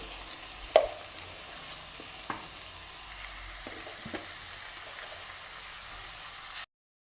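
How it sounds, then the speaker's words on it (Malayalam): Chicken sautés in fried masala in a pan, a soft steady sizzle heard close and quiet, broken by a few sharp clinks of a spoon against the vessel before cutting off abruptly. "ചിക്കൻ ഈ മസാല കിടന്ന് നന്നായിട്ടൊന്ന് വഴറ്റിയെടുക്കണം"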